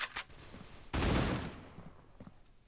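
AK rifle fire in Critical Ops, a short burst of close, sharp shots with one longer, louder volley in the middle and faint trailing pops, no talking.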